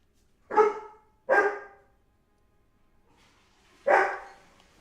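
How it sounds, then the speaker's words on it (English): A dog barks three times indoors, loud and close, two quick barks in succession followed by a pause and a single final bark. "Sorry about the dog."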